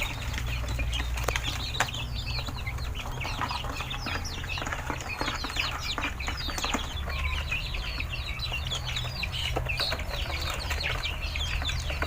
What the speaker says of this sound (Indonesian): ayam-ayam makan lahap